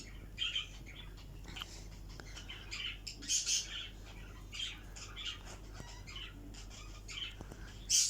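Birds squawk and chirp in a video game, scattered, irregular calls over a low background hum, fairly faint and spread across the scene.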